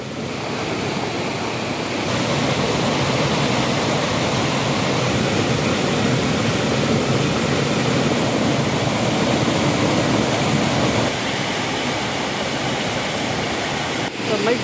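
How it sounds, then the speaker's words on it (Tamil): Water from open lake sluice gates gushes down like a waterfall in a loud, steady roar that fills the whole stretch, with wind buffeting the microphone and no one speaking. "அருவி போல் கொட்டும் இந்த நீர் விவசாயத்திற்கு பயன்படாமல் வீணாக சென்று கடலில் கலப்பதால்"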